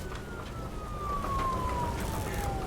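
A police car siren wails in a video game, one steady tone sliding slowly downward as a single pass, fairly loud over a dense rumbling background of engine and crash noise.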